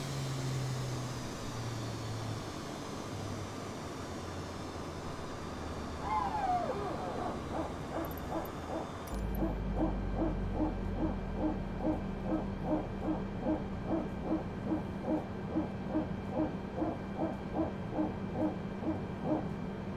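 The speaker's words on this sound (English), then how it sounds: "That was the hydraulic sound of it switching off." In Microsoft Flight Simulator 2020, a steady mechanical whir of aircraft hydraulics with a rising whine cuts off abruptly partway through as they switch off after engine shutdown, leaving a rhythmic pulsing hum and a low rumble that continues to the end.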